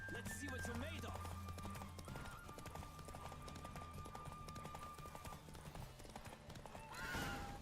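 Roach the horse running in The Witcher 3, with quick, rhythmic hoofbeats and a whinny, set amid game sounds and a faint voice in the background.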